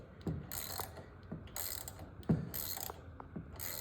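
A ratchet tightens a bolt on a Kohler engine in short bursts of rapid clicking, several strokes close by with brief pauses between them and no talk.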